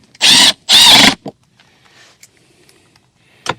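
Two loud ratcheting tool bursts drive 10mm bolts back in during a 2018-2022 Chrysler Pacifica front power window motor repair, followed by a few faint clicks and a brief sharp snap near the end.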